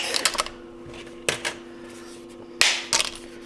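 Three sharp, dry snapping crunches of dry lasagna noodles being broken, spaced apart, close and crisp, with a faint steady hum beneath.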